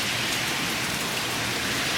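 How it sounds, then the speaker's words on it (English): Heavy rain pours steadily during a thunderstorm, a dense, loud hiss of drops hitting surfaces with no pauses and no voices. "It's raining really hard."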